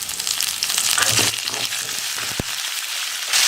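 Curry leaves hitting hot oil with garlic and dried red chillies while a carrot stir-fry is being made, giving a steady, loud sizzle and crackle throughout with a sharp pop near the end and a louder hiss as it finishes.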